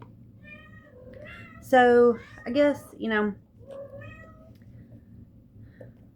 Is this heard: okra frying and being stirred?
no